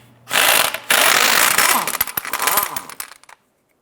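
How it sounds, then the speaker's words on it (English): A ratchet on a 17mm socket loosens lug nuts on a Ford Fiesta, a loud run of rapid clicking with a short pause, then uneven bursts that fade out, close and with no voices. "Using a 17mm socket, go ahead and remove your lug nuts."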